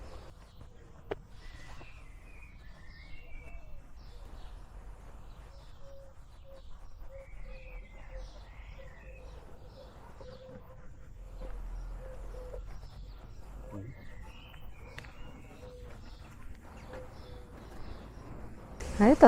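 Birds sing in a rural yard in Poland: scattered chirps and a soft repeated cooing run through quiet outdoor ambience, moderately distant, with no talk over them.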